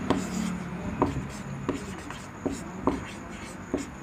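Chalk or pen writing on a board in a science classroom lesson: repeated short scratchy strokes with regular taps roughly every second, close and clear, with no speech over them.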